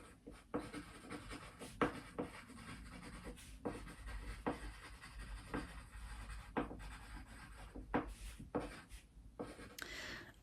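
A pen scratches across paper while a list is handwritten, giving quiet, close strokes and scribbles in an irregular rhythm with small pauses between words.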